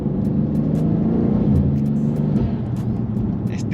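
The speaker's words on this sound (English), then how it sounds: "This car sounds mad as well." BMW G87 M2 with an XHP gearbox map, its engine and intake droning steadily from inside the cabin while driving, a loud, continuous low rumble with no talk over it.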